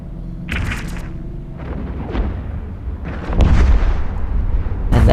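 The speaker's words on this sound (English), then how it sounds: "I absolutely love the explosions in this game." Ship explosions in the space combat game EVE Echoes, a series of deep booming blasts and bursts layered over a rumbling battle soundscape, loud and close.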